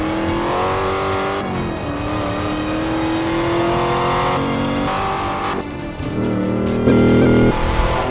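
A Chevrolet Camaro engine in the racing video game Forza Motorsport 5 revs and roars steadily throughout, with pitch rising and dropping through gear changes, loud and continuous with no talk.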